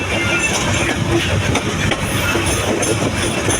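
Steady rumble of a train running on rails between Dhaka and Chittagong, Bangladesh, with rhythmic clatter and continuous broadband noise throughout, close and loud.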